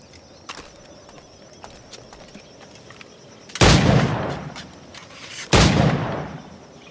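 Two loud, booming flintlock firearm shots from Assassin's Creed Black Flag, a couple of seconds apart, each with a long rumbling tail, over quiet ambience with faint clicks.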